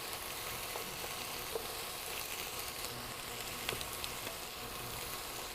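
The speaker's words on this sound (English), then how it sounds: "Stir your peppers and onions. Break up those little onion pieces as we go." Peppers and onions frying in a pan with steady, dense sizzling throughout, broken by a few faint scrapes and taps as they are stirred and the onion pieces broken up; no voices.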